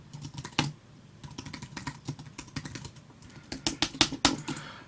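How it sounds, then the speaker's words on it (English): Rapid, heavy bashing on a computer keyboard close to the microphone, irregular bursts of loud clacking keystrokes with no talk. "Sorry for bashing on that keyboard."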